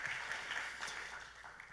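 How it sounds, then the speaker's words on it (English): Applause from a demo day audience for the morning's emcees, a faint, steady wash of clapping that holds evenly from start to finish. "Round of applause to our AMCs of this morning"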